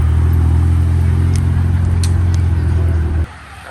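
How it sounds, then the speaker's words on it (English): A red Ferrari with a tan interior at a supercar meet gives off a loud, close engine drone that holds steady for about three seconds, then cuts off sharply. "Here comes the Ferrari, y'all."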